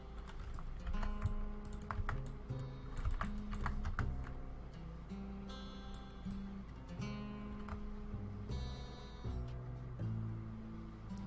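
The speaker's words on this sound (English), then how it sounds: "That's usually like why you guys hear me hitting a lot of keys while I play the Hammerdin, or any character." Computer keyboard keys being hit rapidly while playing Diablo 2 as a Hammerdin, a dense stream of close clacking keystrokes in uneven bursts over faint game sounds.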